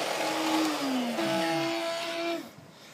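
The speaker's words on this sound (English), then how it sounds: "Let me kill this vacuum real quick." A shop vacuum used for honey bee removal in Kingwood, Texas whines loudly at a steady pitch, then slides downward as it is switched off and spins down to near quiet at the end.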